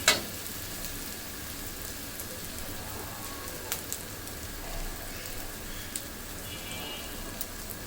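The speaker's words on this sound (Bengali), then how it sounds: "আরও কিছুক্ষণ এটা 2 মিনিটের মতন ভেজে নিব, যাতে আদা রসুনের কাঁচা গন্ধটা চলে যায়।" Ginger-garlic paste frying in a pan, a soft steady sizzle and crackle with occasional small pops, quiet and continuous with no talking.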